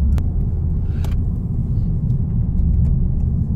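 Honda Civic Type R FL5 fitted with a modified exhaust gives a steady, loud low rumble that carries evenly through the whole stretch, with a few faint clicks on top and no voices.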